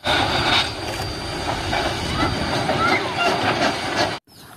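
Continuous rumbling toy train sound with clattering wheels, loud and close, under a voice, cutting off abruptly near the end.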